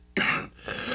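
A single harsh cough bursts out close to the microphone from a sick person indoors, followed by a softer rough throat-clearing rasp.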